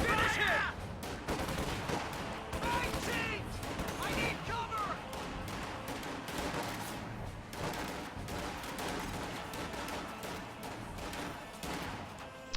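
MG-34 machine gun fire in a WWII strategy video game, dense overlapping bursts and crackling shots amid constant battle noise, loud and unbroken throughout.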